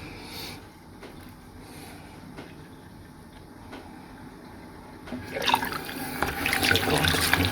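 Water runs from a tap into a sink while soap is rinsed from toy mermaid dolls, a steady low wash that swells louder and brighter in the final couple of seconds.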